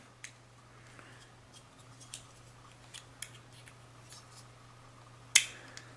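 Faint scattered clicks and small plastic snips, followed by one sharp, loud crunching snap near the end as a SIM card cutter punches the SIM card.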